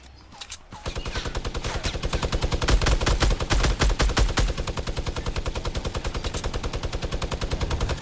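Rapid, sustained automatic fire from a SCAR rifle in a video game, a loud, close, evenly spaced stream of gunshots that starts after a brief pause and hammers on without letup.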